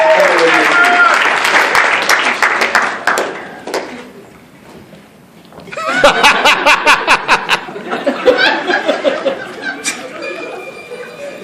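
Audience applause at a hypnosis show, loud clapping with scattered laughter and chatter, fading briefly in the middle before a second burst of clapping swells back up.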